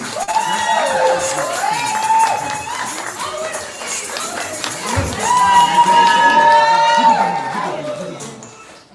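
A poetry slam crowd at a birthday slam event cheers, whoops and claps for a poet, a loud sustained burst of shouting voices and applause rising again midway.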